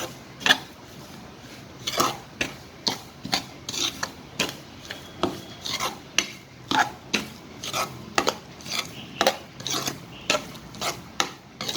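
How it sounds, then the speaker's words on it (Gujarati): A spoon stirs a milk and cream mixture for kalakand in a metal pot, giving a string of sharp scraping clinks at an uneven rhythm, close and fairly quiet, with no talking. "હવે આને આપણે મિક્સ કરી લઈશું."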